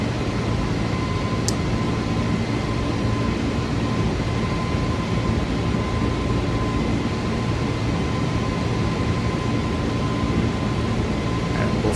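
Steady, loud cockpit drone of an iniBuilds A20N airliner climbing after takeoff in Microsoft Flight Simulator, a constant broadband engine and airflow roar with a thin steady tone running throughout, no voices.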